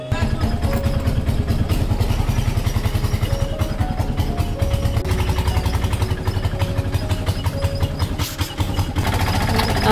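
An auto rickshaw engine runs close by with a loud, rapid, rhythmic chugging clatter, steady throughout with slight shifts in pitch as it idles and revs.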